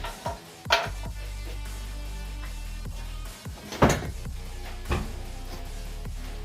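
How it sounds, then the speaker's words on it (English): A small compartment on a Blue Demon welder opens with a few sharp plastic clicks and knocks, separate thuds scattered over a low steady hum, no talk. "Open the little compartment."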